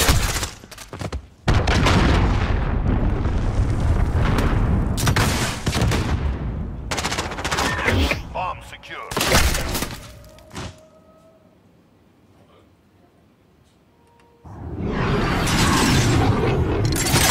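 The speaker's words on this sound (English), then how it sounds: "Enemy cruise missile incoming." Loud explosions and heavy gunfire from a cruise missile strike in a video game, with repeated blasts and bursts, a quieter stretch with a faint tone, and then another loud blast near the end.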